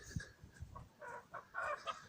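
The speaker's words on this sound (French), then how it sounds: "le tout petit coq qui essaye d'attraper une poule 3 fois comme lui" A very small rooster chasing a hen three times its size in a French backyard poultry yard, with short clucks and squawks in brief scattered bursts, fairly close, and no talk.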